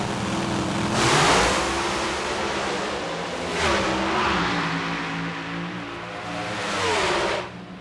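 Two drag racing cars at the Pioneer Keystone Nationals in Reading, Pennsylvania accelerate side by side in a loud, sustained engine roar that surges in three waves as they pass, with no voices over it.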